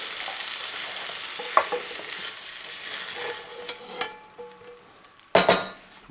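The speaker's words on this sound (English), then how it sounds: "Mix in all these delicious potatoes and mushrooms and onions." Meat, potatoes, mushrooms and onions stirred together in a frying pan for a meat pasty filling: steady sizzling under scraping utensil strokes, with a few louder clatters near the end.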